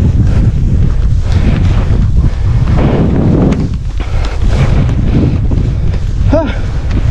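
Strong wind buffets the microphone outdoors on a hiking trail near open water, a loud continuous rumbling roar with gusty surges throughout, and a voice briefly audible beneath it.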